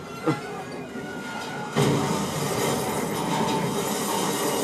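A train in the Call of Duty Black Ops III campaign rumbles steadily with a continuous rolling roar and faint wheel squeal, loud and close, with a sharp knock near the start and a surge in intensity partway through.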